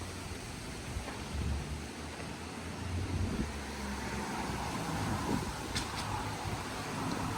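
Steady roar of wind-driven rain with low rumbling gusts throughout, loud and continuous like a storm passing close by, in New Zealand.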